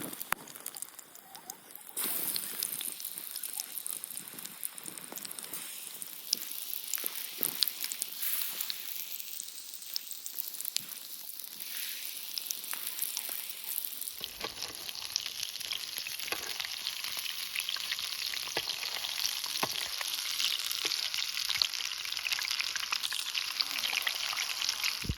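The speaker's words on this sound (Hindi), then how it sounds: "और ये एक एक करके हम फ्राई कर लेंगे इस गरम तेल में" Battered paneer pakoras frying in hot oil, a continuous crackling sizzle with fine popping that stays dense and even, then grows fuller and louder as more pieces go into the pan.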